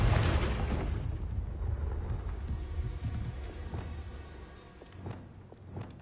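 Deep booming blast from a Confringo spell in the Hogwarts Legacy video game, loud at the start and rumbling away into debris crackles, with smaller bursts following.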